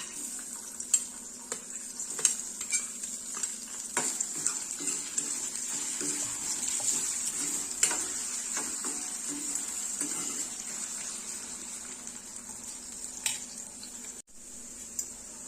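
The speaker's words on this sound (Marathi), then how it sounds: "सर्वात आधी आपण यामध्ये बटाटा जो आहे तो हलकासा फ्राय करून घेणार आहोत" Potato pieces fry lightly in oil in a kadai, a soft continuous sizzle dotted with small pops and occasional stirring clicks, close and moderately quiet without speech.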